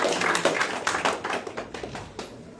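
A small crowd claps to welcome new members joining the BJP in Jammu, a brief burst of scattered, uneven applause that tapers off.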